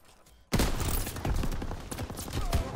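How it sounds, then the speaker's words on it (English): Lever action sniper rifle fire in a first-person shooter, an abrupt loud onset followed by a string of sharp close shots and clattering action sounds over dense battle noise. "Using the lever action sniper rifle."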